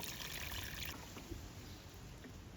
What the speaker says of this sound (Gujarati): તો પાણી મિત્રો અમે નાખી દીધું